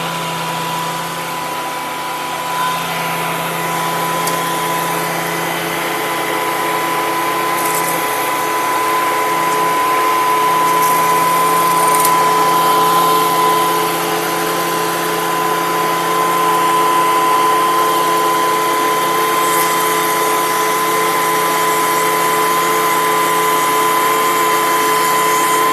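Woodworking jointer running loud and steady, a continuous motor whine with a fixed hum that swells slightly partway through, close by and with no talking.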